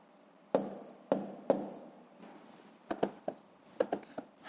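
A pen writing numbers on paper for long division in a sixth-grade maths exercise, a few short scratchy strokes with quiet gaps, close and soft.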